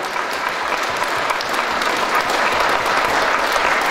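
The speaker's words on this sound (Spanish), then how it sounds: "Vamos a brindarles un fuerte aplauso a nuestros festejados de este día." A church congregation applauds the First Communion children at a Mass, a steady, dense wash of clapping that stays level and full for the whole stretch with no voices over it.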